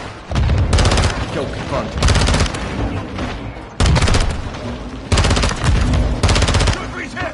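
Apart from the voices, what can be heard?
grenades launched amid gunfire in Modern Warfare II video game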